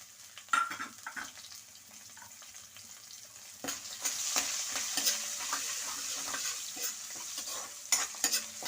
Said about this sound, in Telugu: దీంట్లోకి పచ్చిమిరపకాయలు వేస్తున్నానండి.